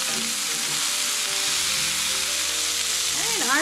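Sausages sizzle and spit in a frying pan, a constant bright crackle close up, with faint tonal noise rising near the end and no speech.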